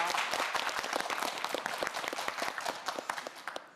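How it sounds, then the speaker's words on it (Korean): Studio audience on a televised quiz show clapping for a student contestant, a brisk burst of many hands that stays full and even for a few seconds, then thins toward the end. "큰 박수 보내주세요"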